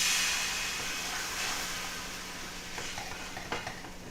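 A hot pan sizzles loudly as it is deglazed, the steamy hiss strongest at first and easing slightly, with a few light clinks and spits toward the end.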